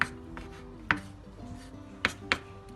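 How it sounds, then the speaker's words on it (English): Knife chopping ingredients for turnip cake on a board, a few sharp irregular chops spaced apart, close and distinct over a quiet kitchen background. "Now you just cut it like that. Chop it roughly chop it."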